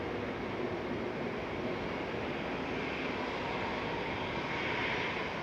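A TUI Boeing 787-8, eleven years old, roars steadily through its takeoff run at Manchester Airport, a loud, continuous broadband jet rumble that swells slightly toward the end.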